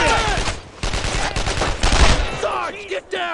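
Heavy gunfire from the World War II shooter Brothers in Arms: Road to Hill 30, with dense rapid rifle and machine-gun bursts that are loud and continuous, mixed with shouted soldier voices.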